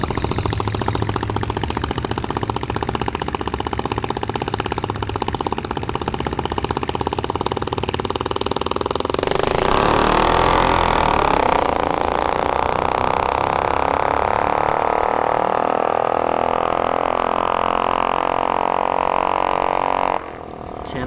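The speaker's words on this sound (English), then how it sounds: "We got the mini bike coming back." Mini bike engine running at a drag strip test-and-tune session, a steady buzzing drone that swells into a louder pass around the midpoint, then holds a sustained high whine under crowd and track noise before cutting off.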